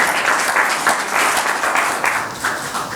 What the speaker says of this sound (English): he deserves a great applause